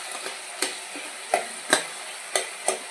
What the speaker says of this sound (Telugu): ఈ టమాటా కొంచెం వేగనివ్వాలండి